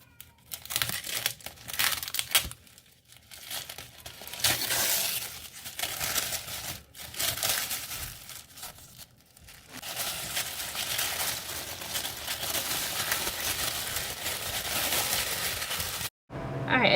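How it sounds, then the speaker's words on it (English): Tissue paper crinkling and rustling while a mail-order manicure supply box is unpacked, a loud, close, continuous crackle with a few short pauses. "Alright, I finally got through that tissue paper."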